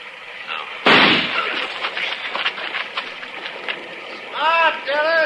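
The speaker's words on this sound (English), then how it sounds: "I'm going to flip a shot at the tree, Chester. Roll away as soon as I fire." A single gunshot in an old-time Western radio drama bursts out loudly near the start, followed by scuffling and movement, and a voice speaks at the end.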